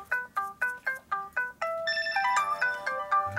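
A phone ringtone goes off in a garage workshop during a 1942 Harley WLC/WLA wheel rebuild: six evenly spaced chirping electronic tones, then a busier melodic jingle, fairly close and heard alone.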